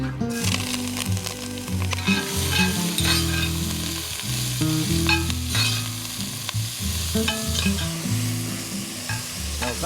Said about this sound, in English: Chop this fine and we'll get it sauteing off